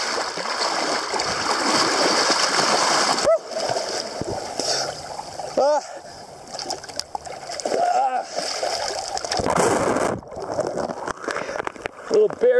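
River water on the Elbow River rushes and splashes around a person body surfing, with steady loud turbulent flow, bursts of splashing and gasps or short vocal sounds heard close up.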